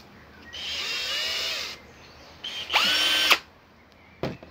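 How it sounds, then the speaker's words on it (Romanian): A Ferrex power drill runs in two bursts, each spinning up to a high whine and winding down, followed by a very short final trigger pull, close and loud with quiet gaps between. "O bormașină"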